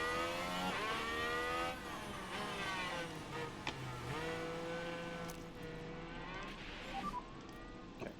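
Race cars in the video game F1 Manager 23 overtake one another, with loud whining engines rising and falling in pitch, gear shifts and passing sweeps over about eight seconds, with no talking.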